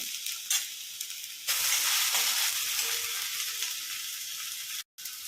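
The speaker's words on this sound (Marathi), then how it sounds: "मसाला हलवत राहायचे नाही तर मग खाली लागू शकतो" Masala for a mushroom curry frying in a pan while being stirred: a loud, steady, close sizzle with scraping strokes that cuts out briefly near the end.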